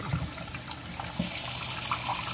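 Tap water runs steadily while an aquarium housing shrimp and crabs is drained and refilled with fresh water, a close, continuous rushing that swells louder partway through.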